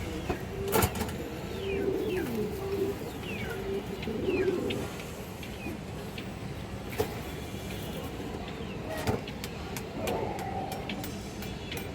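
A silver female pigeon coos in low, repeated, throaty phrases during the first half. Other birds chirp faintly, and traffic hums steadily in the background.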